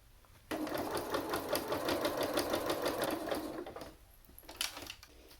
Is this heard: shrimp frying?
no